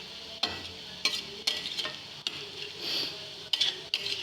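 Carrot curry frying in oil in a pan with periodic spoon-stirring scrapes over a steady close sizzle, no talking.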